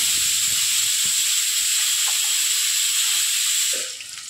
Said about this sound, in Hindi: मटण आपल्या एका बाजूला शिजतंय, कांदा आपण फ्राय करून घेऊ।